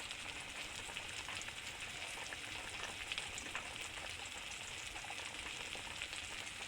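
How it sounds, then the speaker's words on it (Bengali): Turmeric, coriander and cumin powders fry in oil in a pan for a Bengali curry, giving a soft, even crackling sizzle that runs steadily throughout, faint and without talk. "আমি একটু এবার এগুলো ভালো করে কষিয়ে নেব"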